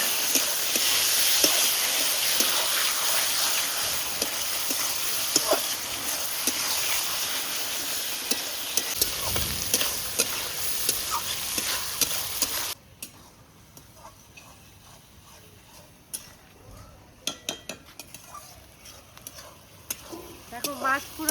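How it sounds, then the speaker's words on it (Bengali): Bombay duck fish frying in a pan for a village-style Bengali dish, a loud dense sizzle that drops abruptly to a quieter crackle with scattered ticks and stirring clicks. "এবার লোটে মাছগুলো দিয়ে দিচ্ছি।"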